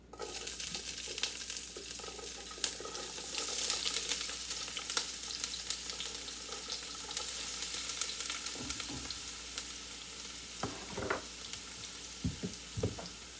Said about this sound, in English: And let this saute. I'm going to let this saute like a minute or two.